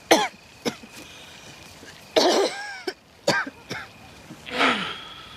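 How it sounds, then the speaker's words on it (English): Repeated harsh coughs and throat clearing from a man in a sheltered room at night, several separate bursts over a few seconds, close and fairly loud with no talk over them. "It's getting worse, that cough."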